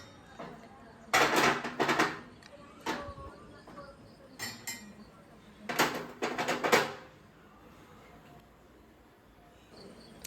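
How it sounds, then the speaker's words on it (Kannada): A frying pan is set down on a home kitchen stove while preparing biryani, giving several separate metallic clanks and clatters spread over a few seconds against a quiet background. "ಸೊ ಇವಾಗ ಒಂದು ಪ್ಯಾನ್ ಇಟ್ಟಿದ್ದೀನಿ"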